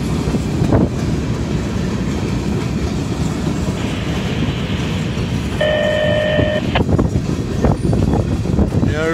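A CSX freight train rolls past close by, a steady loud rumble of wheels and cars with clicking joints and a brief high squeal partway through, and no talking.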